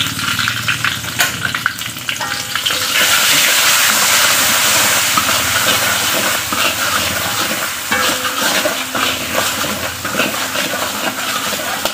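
Spices and seasoning paste for pesmol patin stir-frying in a hot pan, a loud, close, steady sizzle and hiss with repeated scraping and clinks of the spatula as it is stirred, no talking.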